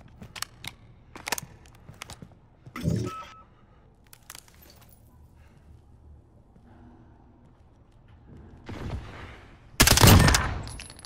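Scattered gunshots in Call of Duty, sharp isolated cracks and short bursts separated by quiet stretches, ending in a loud close burst.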